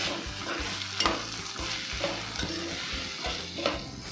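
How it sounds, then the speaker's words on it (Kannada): Byadagi red chillies and grated coconut stir-fried in a pan for a fish curry masala, a steady close sizzle broken by spatula scrapes and stirs about every second or so, with no talk. "ಇದರಲ್ಲಿ 2 ಬಾಡಿಗೆ ಮೆಣಸಿನ್ಕಾಯಿ, ಇದರಲ್ಲಿ ಸ್ವಲ್ಪ ಕೊಬ್ಬರಿ ಹಾಕೊಂಡೆಲ್ಲ ಫ್ರೈ ಮಾಡ್ಕೋಬೇಕು"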